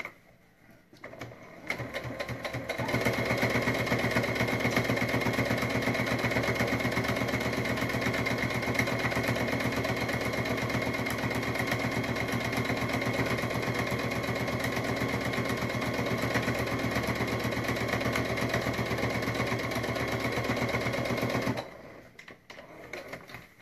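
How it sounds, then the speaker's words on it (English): A Brother sewing machine runs steadily, top stitching a fabric triangle pencil case, its needle motor humming and rattling at an even pace for about twenty seconds before stopping, with quiet moments at the start and end. "Right, so now I've done the top stitching"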